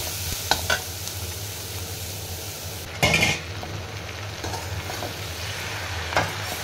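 Bread poha with fried onions being stirred in a pan on a gas stove, a steady low sizzle running throughout with scattered clinks of a spoon against the pan and one louder scrape partway through.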